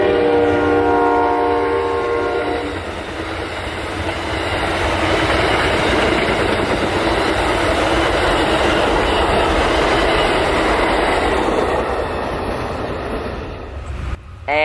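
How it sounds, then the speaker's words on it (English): A long Herzog ballast train rumbles steadily past up close, with broadband roar and rhythmic rail clatter, ending with a brief horn-like tone. "A Herzog ballast train that got a crew around 2 a.m. at Wildwood this morning"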